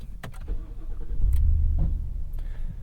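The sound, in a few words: 2023 Ford F-250 7.3 truck engine starting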